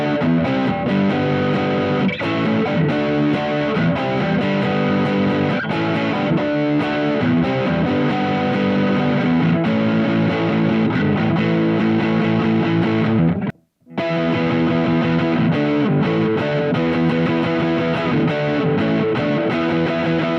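A Positive Grid Spark practice amp on a high-gain setting plays heavily distorted electric guitar continuously with thick, saturated tone, pausing for a split second before carrying on.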